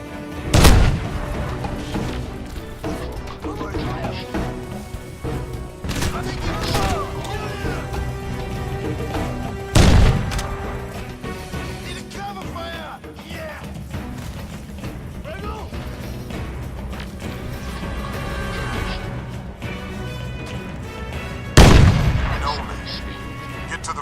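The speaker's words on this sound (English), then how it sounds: "Use grenades to blast your way through." Grenade blasts and gunfire in the video game Crysis while breaking through a line of KPA defenses: three loud booming explosions spaced several seconds apart, over steady rattling shots, mechanical battle noise and intermittent voices.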